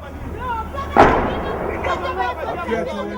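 A single artillery shell blast in a combat zone bursts out loud about one second in, its rumble decaying over the following seconds while voices chatter in the background.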